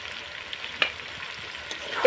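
Jaggery being stirred in a pan with amla, cooked without water, a quiet dry sizzle with two brief scraping strokes of the spoon, close and soft.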